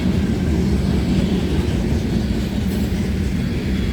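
A freight train with a mid-train distributed power unit, BC Rail DPU 2979, rolls past at night in a steady, loud, close rumble with continuous rail noise throughout.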